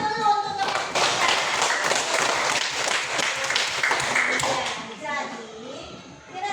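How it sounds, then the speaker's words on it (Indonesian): A classroom of children claps for their classmates in a dense burst of applause lasting several seconds, close and lively, then tapers off as a teacher's voice returns. "beri aplaus dulu untuk teman kita"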